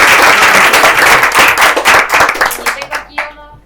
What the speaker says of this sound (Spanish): le damos un aplauso entonces